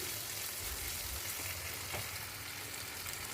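Green chilies frying in hot oil with salt for a tuna curry, giving a steady, close sizzle with a dense broadband hiss that holds evenly throughout, no voices.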